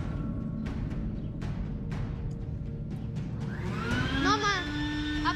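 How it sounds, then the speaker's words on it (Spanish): An indoor vacuum cleaner hums steadily under a voice, with a rising whine and a few clicks toward the end. "Apaga la aspiradora."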